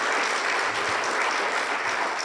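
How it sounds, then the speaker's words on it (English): A luncheon audience at the Gaines Chamber of Commerce Pine Rest Giving Tree event applauds loudly, a dense, continuous wash of many hands clapping with no pause. "Let's give all of these wonderful men and women a round of applause."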